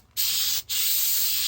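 Short bursts of Flex Seal rubber sealant aerosol spray hissing up close on an Explorer 200 boat's edge seams, starting after a moment of quiet and pausing briefly once before continuing.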